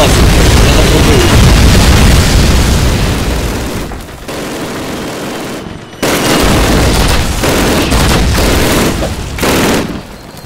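A grenade blast in Call of Duty set among heavy, loud, continuous combat noise with booms and rattling gunfire, briefly easing before surging again, with no clear voices on top.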